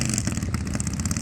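A semi truck's engine revs hard while the rig sits stuck in soft beach sand on the Outer Banks, its parking brake jammed; a loud, continuous rumbling roar with uneven surges fills the moment, no talk over it.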